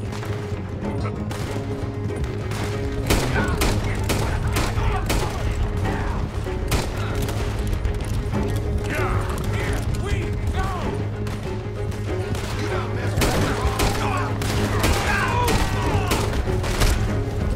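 Gunfire during a stagecoach robbery in Red Dead Redemption 2, a loud sustained barrage of shots and booms layered over constant game rumble and hoofbeat-like thumping, with voices shouting underneath.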